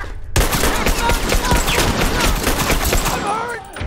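Video game gunfire erupts suddenly as a dense, sustained volley of rapid shots that continues almost to the end, with a voice partly heard beneath it.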